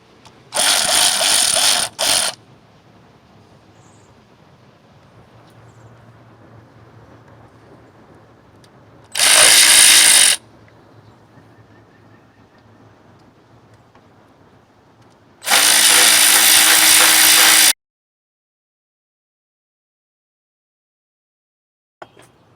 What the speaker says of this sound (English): Remove all the valve cover bolts.